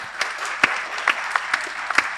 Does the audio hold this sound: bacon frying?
no